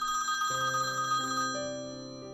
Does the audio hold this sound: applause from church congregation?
no